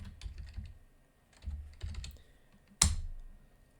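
Close, quick keystrokes on a computer keyboard as a server password is typed, coming in short bursts with pauses and ending in one sharp, louder key press; no one speaks.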